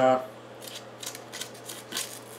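An 18 teeth-per-inch serrated saw blade cuts through foam in short rasping strokes, about five scratchy bursts after a brief voice at the start.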